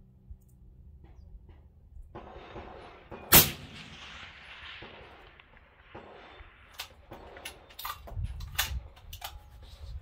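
A 6.5 SLR rifle fires 130-grain OTM bullets at about 2925 fps toward a target roughly 1009 yards away, giving one sharp loud shot followed by a lingering outdoor rumble and faint distant sounds.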